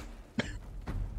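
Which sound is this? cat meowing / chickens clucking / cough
cough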